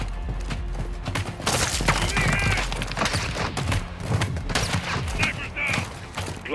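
Gunfire in the video game Call of Duty: Modern Warfare, a sniper battle on the streets of Las Almas, with dense bursts and shots layered over a loud, continuous clatter of combat and voices.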